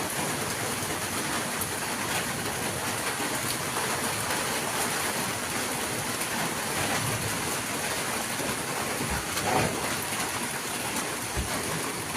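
Rain pours onto a road and yard flooded knee-deep, making a constant dense wash of water that stays steady throughout with no voices.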